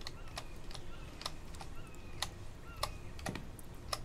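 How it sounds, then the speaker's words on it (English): Computer keyboard keys clicking during typing, a sparse irregular run of crisp close taps, a dozen or so spread over a few seconds above a faint background hum. "I'm sure you can hear my keys clicking"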